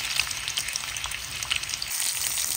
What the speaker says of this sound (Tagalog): nilagay ko na po ang ating sibuyas at nilagyan ko po siya ng konting luya